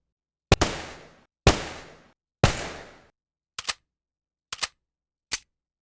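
Calico 950 pistol firing in the Fallout Tactics video game: three sharp, loud gunshots each with a decaying tail, followed by three shorter, thinner clicking shots, with no talk.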